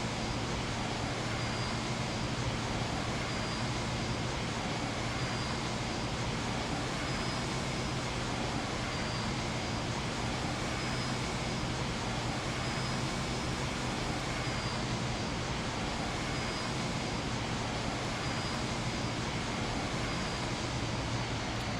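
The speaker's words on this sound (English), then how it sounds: "Engine sounds in this though are just pants." Steady, unbroken roar of a simulated airliner's engines in the X-Plane flight simulator, a dense broadband drone with a faint whine, constant throughout with no talking.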